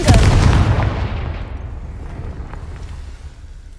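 A Confringo fire spell bursts in Hogwarts Legacy on PS5 as one loud, close explosive boom that rumbles and fades over several seconds.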